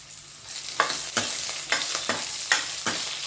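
Small onions and dried red chillies fry in a pan for a paruppu urundai kulambu, a steady sizzle broken by several sharp scraping stirs at irregular intervals, close and moderately loud with no talking.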